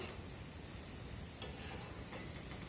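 Masoor lentils, soaked beforehand, being stirred in a cooking pot, giving a steady wet scraping and faint sizzle that runs evenly and close throughout, with no voices.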